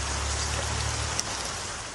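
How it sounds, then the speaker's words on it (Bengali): Heavy thunderstorm rain pours down in Brahmanbaria as a dense, unbroken hiss. There is no talking and no thunder is heard. "রোববার বিকেলে ব্রাহ্মণবাড়িয়ায় হঠাৎ বজ্রসহ বৃষ্টি হানা দেয়।"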